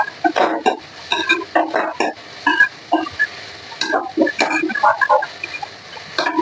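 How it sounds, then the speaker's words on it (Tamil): Intermittent stirring and scraping in a pan with faint sizzling, short bursts of clatter spread across the clip, close and fairly loud. "நல்லா பச்சை வாசனை போகுதான், அதை வரைக்கும் நல்லா வதக்கிடுவோம்."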